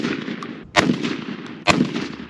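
A Beretta A300 shotgun with a stock full choke fires number 4 shot outdoors, two loud booming blasts about a second apart, each ringing out with a short echoing tail over steady background noise.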